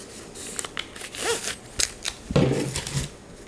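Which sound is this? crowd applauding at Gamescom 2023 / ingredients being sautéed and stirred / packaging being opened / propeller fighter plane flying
packaging being opened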